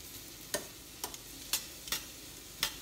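A spoon scrapes through finely chopped cauliflower frying in a pan, giving five or six crisp, evenly spaced stirring strokes over a faint, steady sizzle.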